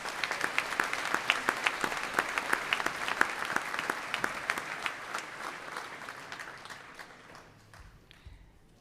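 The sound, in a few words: audience applause for engineer graduates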